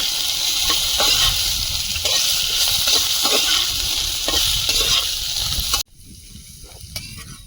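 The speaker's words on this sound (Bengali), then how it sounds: "খেতে করে রসুন আলুর সঙ্গে আর একটু ভেজে নেব" Garlic and potatoes sizzle loudly in a hot pan, a dense close frying hiss broken by stirring clicks before it suddenly drops to a quiet background near the end.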